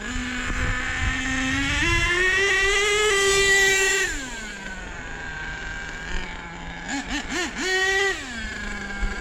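Nitro RC car engine with new clutch bell, spur gear and fuel mixture, a high buzzing engine note that rises, holds and then settles to idle, with short blips of throttle near the end, close and loud.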